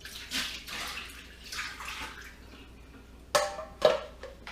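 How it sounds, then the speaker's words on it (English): Fresh cherries are rinsed under running tap water, a steady splashing flow with shifting gurgles, ending in two sharper clattering splashes close by. "I rinse them until the water coming off of them"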